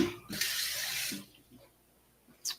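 Water splashing from a tap or being poured into a bowl of vegan cornbread dressing mix made with stone-ground cornmeal, a close, steady hiss for about a second, followed by quiet handling and a brief final splash.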